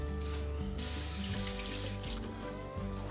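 Rainbow chard being rinsed in a colander, a steady wash of running tap water splashing close by and filling the whole stretch, with no voices.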